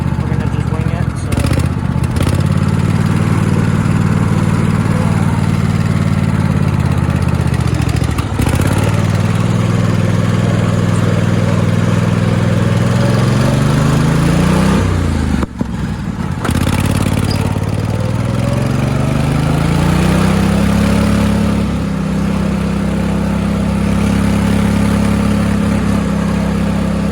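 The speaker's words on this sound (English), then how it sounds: "I'm trying to rev up the motor because it's cold out" A Dynamark lawnmower with a V-twin 27 horsepower engine, cold, revving loud and close: a droning roar that rises and falls in pitch through repeated revs, with a few abrupt dips, and a voice talking over it.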